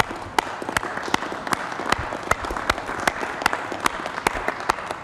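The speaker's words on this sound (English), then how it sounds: "I think we ought to applaud the whole thing." Applause at a city council meeting, a modest room of people clapping with distinct sharp individual claps standing out over a steady patter for about five seconds.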